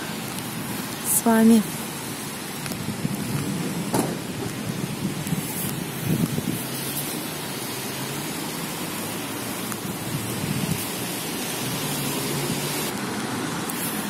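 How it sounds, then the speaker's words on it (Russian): Light drizzling rain falls on a small town square in November, a steady soft hiss throughout. Someone speaks briefly near the start. "потому что дождик моросит и моросит"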